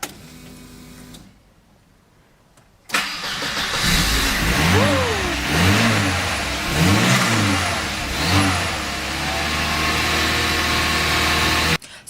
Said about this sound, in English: hopefully this time it will start and run nicely